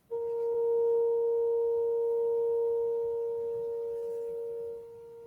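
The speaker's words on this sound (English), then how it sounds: "Then we're going to go to 465 and notice how this sound feels in your body." A steady 465 Hz pure tone sustained for about five seconds at an even level, dropping off at the end over a faint low background hum.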